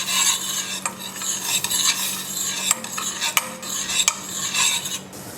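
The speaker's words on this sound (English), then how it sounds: "I'm just going to clarify the butter here with the spices added" Butter with added spices stirred in a used broth pot, a steady scraping and clinking of a utensil against the metal with a light sizzle underneath, close and continuous.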